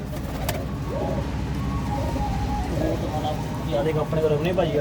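Pigeons with black eyes coo softly in the background while someone talks over them, with steady low noise throughout.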